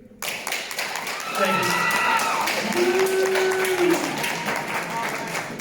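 A comic expo panel audience at Long Beach claps and cheers in a hall, sustained applause rising after a moment and holding steady, with a voice speaking over it.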